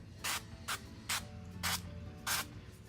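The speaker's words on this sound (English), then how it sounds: "Olive oil spray. It's like Pam, but it's olive oil." Five short, soft bursts of olive oil cooking spray mist over potato skins, evenly spaced and close by, with a low background hum between squirts.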